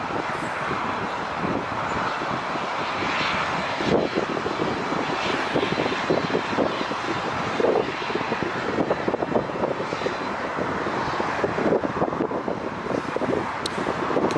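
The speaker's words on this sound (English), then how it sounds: "Cool little jet." A small jet aircraft taxis at LAX airport, its engine a steady, loud whining roar that holds throughout, with gusts of wind buffeting the microphone.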